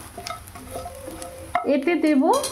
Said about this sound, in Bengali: উচ্ছেগুলো বেশ ভালো ভাজা হয়ে গেছে